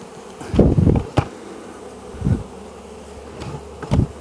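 Honey bees buzz in short loud bursts during a beehive rescue from a condemned building, close passes of swarming insects rising and fading several times over a low background hum.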